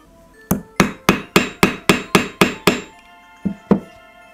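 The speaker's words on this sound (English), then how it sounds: "And hammer it down." A hammer drives a thumbtack into wood with nine quick, evenly spaced sharp knocks, followed after a pause by two more blows, close and loud.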